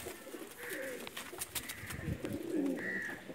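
Rampuri cross teddy pigeons coo softly in a loft, with about three throaty coos spaced a second apart, fairly close and faint, over low background noise and no speech.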